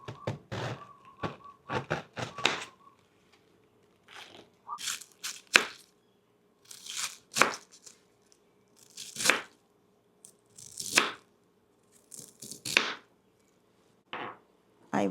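Cabbage being chopped on a board: clusters of crisp, crunchy knife strokes with short pauses between bursts, close and fairly loud, with some leafy tearing sounds.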